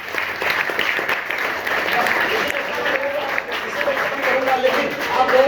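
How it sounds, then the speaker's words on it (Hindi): Sustained applause from a school crowd in a hall, a steady wash of many hands clapping at moderate loudness that continues throughout without a break. "एक बार ताली जोर से बजाइए जरा सा"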